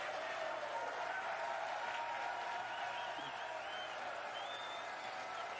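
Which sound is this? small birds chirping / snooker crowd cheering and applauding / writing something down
snooker crowd cheering and applauding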